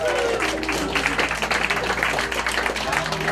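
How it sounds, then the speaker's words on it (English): Wedding guests applaud the couple with a dense, continuous round of clapping that fills the room, while background music plays underneath. "Big round of applause"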